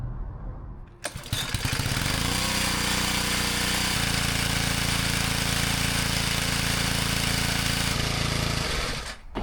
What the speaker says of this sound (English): that pressure washer is just not working right